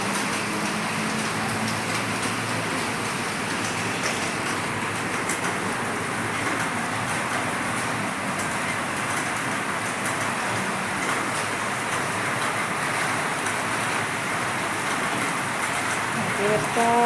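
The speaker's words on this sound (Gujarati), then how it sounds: "વરસાદ છે." Heavy rain pours steadily outside a clinic doorway where water is pooling, a dense unbroken hiss of falling water holding at the same level throughout.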